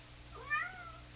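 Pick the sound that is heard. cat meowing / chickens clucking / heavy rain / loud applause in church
cat meowing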